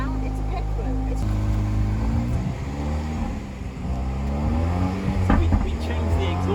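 A petrol 2-litre Land Rover Defender fitted with a V8 exhaust runs steadily with a deep, noisy engine note. It rumbles close by under people talking.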